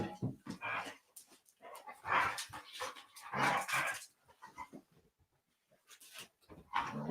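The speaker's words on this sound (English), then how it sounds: "And there's a young pup." A young puppy whimpers, pants and lets out short yips in quick bursts close by, with brief pauses between the bouts.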